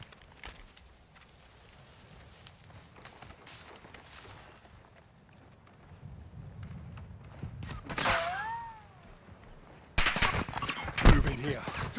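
Gunfire in Call of Duty: Modern Warfare II, with sporadic shots under a low rumble, a sharp burst near the middle and denser, louder bursts of fire toward the end, mixed with game radio chatter.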